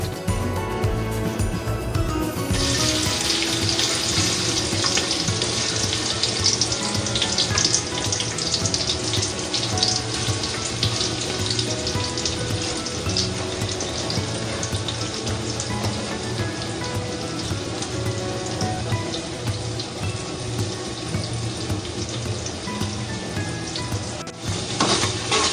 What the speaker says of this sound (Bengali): দই চিকেনের জন্য ঘি তেল মিক্সড করে দিয়ে আমি একটু বেরেস্তা বানিয়ে নেব।